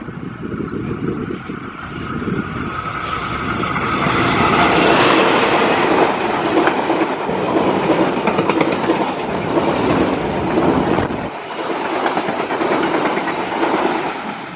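A Bandung Raya local train in Indonesia rolls past nearby, a loud continuous rumble with rhythmic wheel clatter on the rails, swelling in the middle and easing slightly toward the end.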